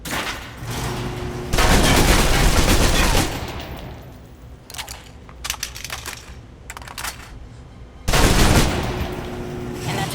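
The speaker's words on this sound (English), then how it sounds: "If you're trapped in close quarters with multiple opponents, the SMGs can help clear the room quickly." Submachine gun fire in Alpha Protocol, loud dense bursts of rapid shots in two long volleys separated by quieter, sparse clicks and movement.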